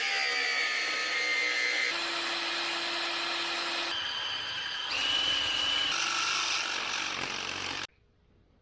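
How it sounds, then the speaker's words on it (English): A power drill bores a hole into the cast housing of a 14 bolt rear axle during a Jeep JKU one ton axle swap, a steady whining grind with pitch shifts, then stopping abruptly. "Now that I got the hole drilled and tapped"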